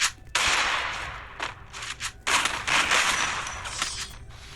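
Rapid Desert Eagle pistol fire in the mobile shooter Free Fire, loud bursts of shots repeating through the clip with brief gaps, no talking.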